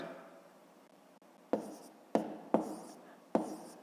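A pen writes numbers for long division on paper, with a soft scratchy stroke that fades early, then four sharp taps and short scribbles close by, spaced irregularly, with no talking.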